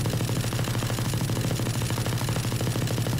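Rapid automatic gunfire from the video game Valorant rattles continuously at close range, a loud, steady stream of evenly spaced shots with no pauses or speech.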